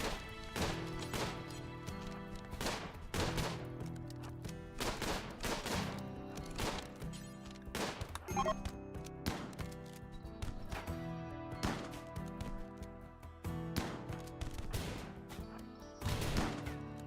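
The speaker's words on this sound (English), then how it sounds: "See how they stop at the corner and shoot now?" Raiders fire from a corner in a RimWorld battle, scattered bursts of gunshots and impacts irregularly spaced across the clip, fairly quiet and mixed with game noises, no voices.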